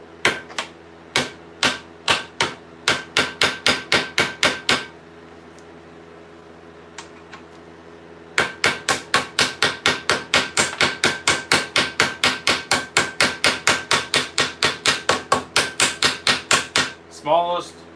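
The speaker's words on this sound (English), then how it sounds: "Smallest possible ball peen hammer you can get to set your steel rivets, the better." Rapid series of sharp metallic blows from a small ball peen hammer setting steel rivets on medieval leg armour, struck in quick rhythmic bursts with a brief pause midway, loud and close.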